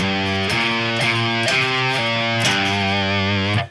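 A heavily distorted electric guitar plays a pentatonic stoner rock riff, chunky sustained notes moving in an even rhythm about twice a second, loud and upfront before ringing off abruptly at the end.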